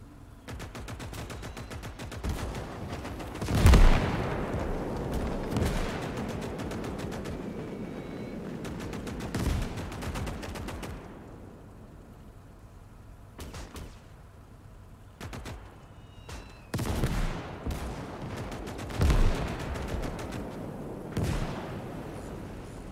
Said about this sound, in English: There's an MG over here or something that's hitting me